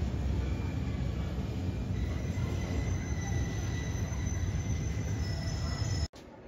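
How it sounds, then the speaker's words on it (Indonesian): An old-fashioned train pulls in at a station in Yanjin County, Yunnan, China, with a loud continuous rumble close by and faint squealing tones from the wheels above it. "Nah, ini keretanya udah datang. Kereta jadul kayak gini."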